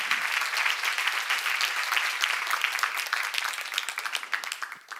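A church congregation at a Korean Bible seminar breaks into dense, continuous clapping that holds steady throughout and thins out toward the end, with no voices over it.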